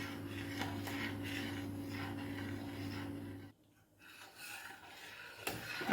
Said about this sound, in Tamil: தொதோல் பதம் வர மட்டும் நல்லா கிண்டி கொண்டே இருங்கோ.